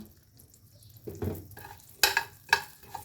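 Cumin seeds drop into hot oil for a green chili sabzi with milk gravy, giving a few close, bursting sizzles and crackles with brief clatter of a spoon in the pan, with no talking.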